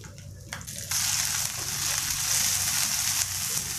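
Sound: garlic frying in sesame oil

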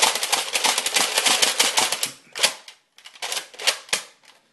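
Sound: Nerf N-Strike Elite Alpha Trooper blaster firing rapidly

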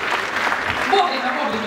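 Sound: applause

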